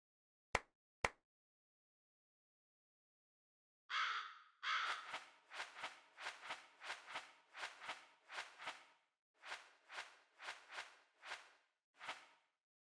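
A Kasugai crow in the video game Demon Slayer: The Hinokami Chronicles gives two sharp clicks, then a quick run of about a dozen loud, raspy caws, close and in an uneven rhythm, with no talk.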